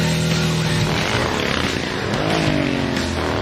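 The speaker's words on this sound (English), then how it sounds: "getting some actual sounds of a power plant, drivetrain, and characteristics of the motorcycle" A motorcycle engine, recorded as source audio for the game Cyberpunk 2077, drones loudly and continuously up close, its pitch swelling and dipping as the revs shift.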